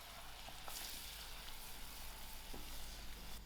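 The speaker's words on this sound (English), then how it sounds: "To my melted butter, I'm going to add in my flour, and I'll keep stirring till my flour fries out" Flour fries in melted butter in a pan as it is stirred. It gives a soft, even sizzle with a few light scrapes and clicks, fairly quiet and heard alone without speech.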